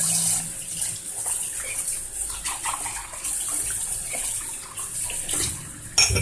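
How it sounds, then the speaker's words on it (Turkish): Water from a kitchen tap runs steadily while drinking glasses are filled during dishwashing, a close hissing splash that continues throughout, ending with a brief clatter. "Şimdi bardakları dolduruyorum."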